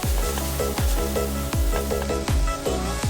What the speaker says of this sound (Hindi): चलो मिक्स करते हैं, कीमे के साथ मिक्स कर लेते हैं।